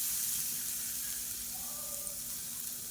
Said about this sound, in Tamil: பூண்டு நல்லா வறுபட்டுருச்சு